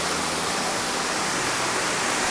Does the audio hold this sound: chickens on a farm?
no